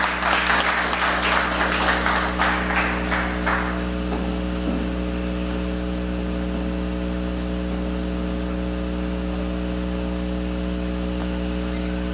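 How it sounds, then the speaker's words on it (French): At an agricultural celebration ceremony, an audience claps in a moderate burst for a few seconds before it fades, leaving a steady electrical hum and hiss from the sound system. "nous avons applaudi tout le monde"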